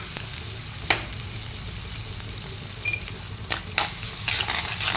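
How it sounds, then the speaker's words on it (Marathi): Onion with salt sautés in a pan for a fenugreek leaf dish, a steady close sizzle broken by occasional clinks and scrapes of a spoon stirring. "आता हे परतून घेऊया."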